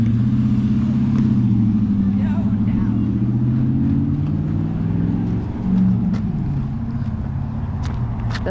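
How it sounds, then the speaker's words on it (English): Car driving past on a street, a steady engine drone with shifting tones that swells slightly midway, near and continuous, with voices talking over it. "let's let this car cross over here"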